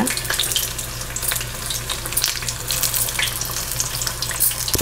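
Steady crackling sizzle of battered fish frying in hot oil, dense and continuous at a moderate level, with no voices.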